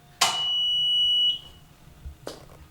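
Mondolfo Ferro wheel balancer sounding an error alarm: one sustained electronic beep lasting about a second, followed by a short sharp click or thump and quiet background.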